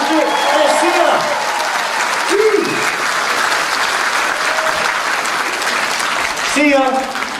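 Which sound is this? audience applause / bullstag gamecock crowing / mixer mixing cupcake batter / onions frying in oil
audience applause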